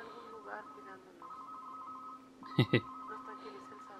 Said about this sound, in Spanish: suena el pinche teléfono